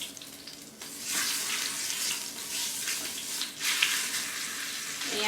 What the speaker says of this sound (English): as I put this piece in, I'm going to use it to kind of swirl that fat around.